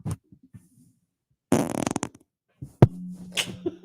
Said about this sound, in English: Stinky fart.